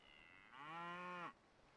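A single low, drawn-out moo from a cow in a strategy video game, rising in loudness and cutting off cleanly after about a second, alone against near silence.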